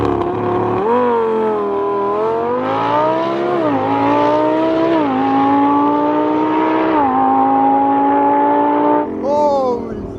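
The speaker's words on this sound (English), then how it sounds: "the rush of a Huracan ripping by you" A Lamborghini Huracan accelerating on a drag strip: a loud, close engine howl climbing in pitch, with several gear-shift dips, before it cuts off near the end.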